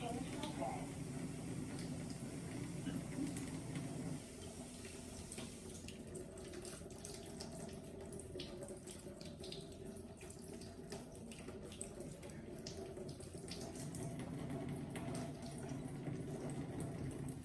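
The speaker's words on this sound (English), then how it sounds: "I'm gonna go ahead and wash this one off." Running kitchen tap water splashing steadily over kale or similar vegetables being rinsed in a sink, a continuous broadband wash that shifts slightly in tone as the vegetable moves under the stream.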